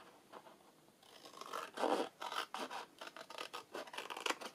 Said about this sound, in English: Turning it this way, just going to cut down here and here.